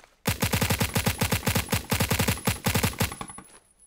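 Rapid tapped gunshots in the video game Phantom Forces fire loud and close in quick uneven groups of two or three, repeating for about three seconds before stopping.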